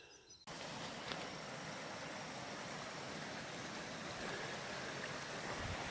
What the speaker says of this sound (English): I could hear the water last night when I come in, cascading